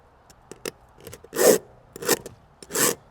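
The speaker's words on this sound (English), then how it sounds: "you want to file down your rakers before you sharpen your teeth" A hand file rasps across the rakers of a chainsaw chain in three close, scratchy strokes, each about half a second long, after a few lighter taps and scrapes. There is no talking.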